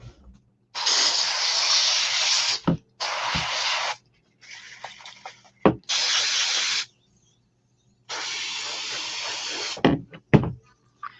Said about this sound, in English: That's disinfectant I'm spraying.